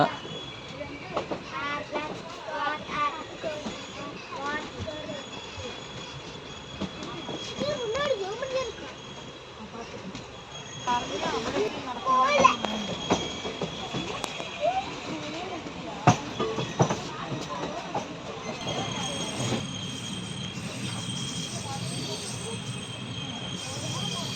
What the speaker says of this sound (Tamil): ஒரு ஆற்றை கடந்தாங்க நம்ம ட்ரெயின் இப்போ போயிட்டுருக்கு